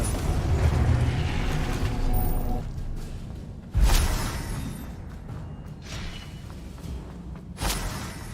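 Confringo blasting-spell explosions in the Hogwarts Legacy video game, a rumbling burst fading out, then two more sharp booms a few seconds apart, loud and close with no talk.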